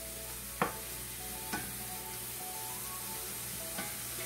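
Zucchini sautés in a pan for ginger pasta, a quiet, steady sizzle with a few sharp taps of a spoon against the pan as it is stirred, no voices.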